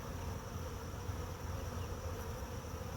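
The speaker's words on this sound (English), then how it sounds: "I'm going to record the recording of the bees." Bees buzzing outdoors, a dense continuous hum from many insects that stays steady and fairly close throughout, with no voices.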